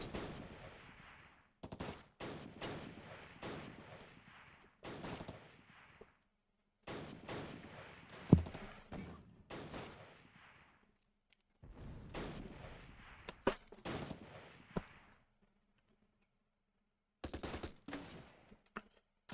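Rapid bursts of machine-gun and rifle fire from a Close Combat battle at Arnhem crackle in repeated volleys, separated by short silent pauses, loud and close without talk.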